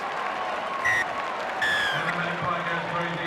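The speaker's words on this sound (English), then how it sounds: "That'll bring a cheer, I'm sure, even from the parochial Newcastle supporters" A rugby league crowd at a Newcastle match applauds and cheers after a try, a steady broad wash of clapping and crowd noise with a commentator speaking over it.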